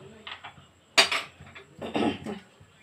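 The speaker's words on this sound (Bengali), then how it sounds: "এবারে আমি একটু কড়াইটা গরম করতে দিয়ে দিই।" A metal kadai is set down on a kitchen stove to heat, giving a couple of sharp, close clanks of cookware separated by quiet.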